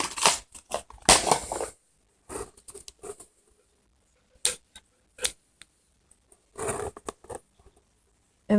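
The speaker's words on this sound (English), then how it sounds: "I grab my scissors and I chop" Scissors snip off a worked-in yarn end while a crochet newborn baby hat is being made, giving a series of short, crisp close-up clicks and snips in irregular bursts separated by silent gaps.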